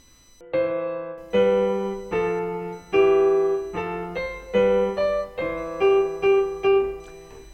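A piano plays a short melodic line of sustained notes with a steady rhythm, clear and close, with no talking.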